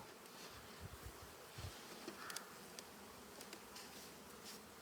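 Honeybees swarming around an open hive while the boxes are rearranged give a steady soft buzzing drone, faint and close, with a few brief bumps and knocks.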